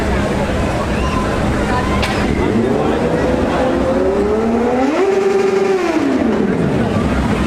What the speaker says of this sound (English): can you sit on your bike and start the engine?